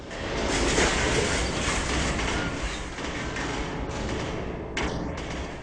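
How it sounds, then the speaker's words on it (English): A bridge blows apart in an NVIDIA GPU physics demo game, a loud, sustained broadband roar and rumble of crumbling debris lasting several seconds, with a brief dip near the end. "Now you can actually pause right here, and we can detonate the bridge."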